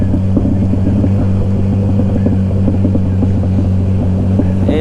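A Kawasaki Ninja 1000SX motorcycle engine-brakes down a steep hill on a rainy long ride, with a steady loud engine drone and heavy wind rush throughout.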